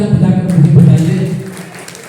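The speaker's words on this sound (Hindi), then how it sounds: "अगर आप सुनने के मूड में तो तालियां बजाकर मुझे बताइए।" Audience applause at a Hindi kavi sammelan poetry recital: a burst of crowd clapping rises after a brief pause and fades over about two seconds, mixed with murmuring voices.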